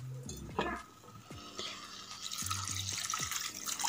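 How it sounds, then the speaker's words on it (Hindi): Water is poured into a pan of cooking vegetable curry, with splashing, trickling and dripping sounds over a steady kitchen background and clinks of utensils. "मैं साथ में ये डाल देती हूँ थोड़ा सा पानी"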